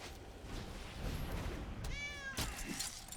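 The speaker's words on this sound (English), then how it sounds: "It's funny how it makes a little meow sound, but it's like way bigger than a regular cat." Meow from a cat card in a digital card game, one short rising-and-falling synthetic meow at mid-clip over a steady background of game effects, with a brief burst just after.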